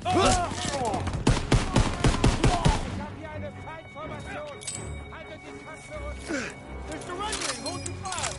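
Flak gun fire in the Call of Duty WWII campaign, Operation Cobra: a loud, dense run of rapid booming cracks up close, easing into scattered, softer shots under voices and battle noise.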